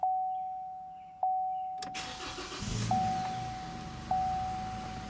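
A 2.8 Duramax car engine cranks and starts after a couple of warning chimes, then settles into a steady close idle as the chimes repeat over it.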